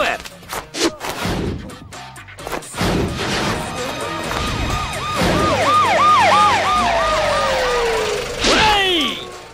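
An ambulance siren wails in repeated rising-falling sweeps, loud and close, following a burst of crashing impacts in a Tamil comedy film scene. Voices are heard over it.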